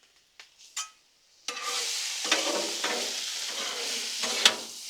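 Onions and broccoli frying on a Blackstone griddle: a few faint scrapes, then a spatula stirs them in and a bright, steady sizzle rises and carries on to the end, with light scraping over it.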